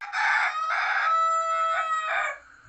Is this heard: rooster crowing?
yes